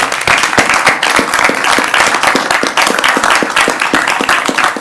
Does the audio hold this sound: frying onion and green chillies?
no